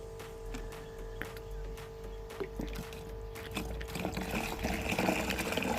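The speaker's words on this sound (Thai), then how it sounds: "ต่อไปเราก็จะเติม น้ำลงไปนะครับ เพื่อละลายปุ๋ยให้มันเข้ากัน" Plain water poured into a bottle holding fertilizer for a green-water culture, trickling and gurgling softly at first, then rising into a fuller, steady filling sound toward the end.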